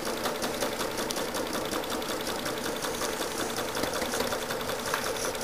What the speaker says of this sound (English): I'm just going to stitch in the lines along the bottom wing